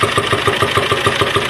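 A 1.3 Multijet car engine idling, a close, loud and even rhythmic chugging pulse that holds steady throughout with no talk.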